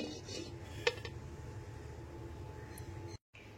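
A lid goes onto a pot of rice and red lentils (masoor dal) for khichdi, with a single close metallic clink near the start. A low steady kitchen hum continues before and after.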